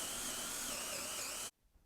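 Loud, continuous power drill whirring as it bores into wood, stopping suddenly near the end.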